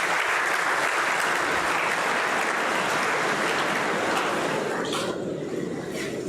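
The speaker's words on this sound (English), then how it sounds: "Let's welcome him with a huge round of applause." An audience at a university orientation programme applauds steadily as a director is welcomed onto the stage, dense continuous clapping at loud volume throughout, easing slightly near the end.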